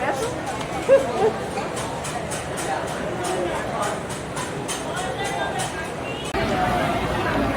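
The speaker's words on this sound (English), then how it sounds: "Whole crowd." Crowd chatter from people waiting for cheesesteaks in Philadelphia on the Fourth of July: a steady, close hubbub of many overlapping voices with no single voice standing out.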